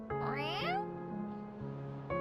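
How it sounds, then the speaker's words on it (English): A cat from the visual novel Kamikaze Lassplanes lets out a close, voiced meow with rising and falling tones, then gives a softer steady hum and a brief second call at the end. "Iluna climbs out of the bag I'm holding with a soft purr"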